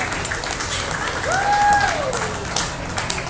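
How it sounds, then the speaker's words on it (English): Spectators at a county fair swine show give a steady round of applause, with a brief whistle or whoop cutting through near the middle. "Please put your hands together and give them a nice round of applause"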